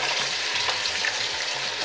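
Fish frying in hot oil in a pot for a fish soup, giving a steady, close, continuous sizzle and crackle with no talk over it.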